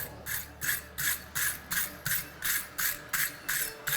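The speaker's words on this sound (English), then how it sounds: "Now, last thing, we just need to scrub it." An object is scrubbed in rhythmic strokes, about nine evenly spaced rasping passes close up, steady and alone without talk.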